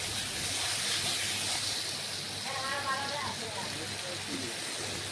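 Water poured into a pan of mutton and potato masala sets off a steady sizzling hiss that runs throughout, with someone talking over it.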